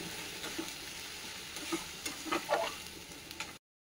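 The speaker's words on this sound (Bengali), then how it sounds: "তো এটাকে ভালো করে একটু টমেটোটা কষে নেবো, কাঁচা গন্ধটা যাতে চলে যায়।" Tomato and turmeric sizzle steadily in a hot pan while a spoon scrapes and stirs through the mixture, giving a few louder clinks and scrapes over the continuous frying hiss, close and fairly quiet.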